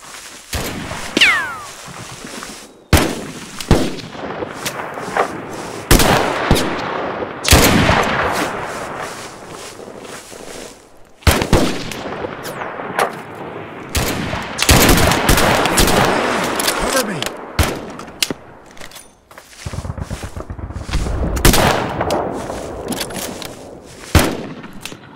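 Gunfire in the war game Mud and Blood, with sharp single shots and rattling bursts coming in irregular volleys and brief pauses, loud and close throughout.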